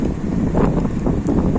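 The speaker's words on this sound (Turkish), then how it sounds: "Ankara bugün rüzgarlı." Low rumbling wind in Ankara buffets the microphone in steady gusts, close and loud, with no voices.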